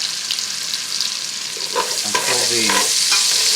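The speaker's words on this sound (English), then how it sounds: "saute these vegetables for 3 to 4 minutes until the" Vegetables sautéing in a pot for potato bacon soup, a steady close sizzle and frying hiss with occasional stirring scrapes, alone without talk.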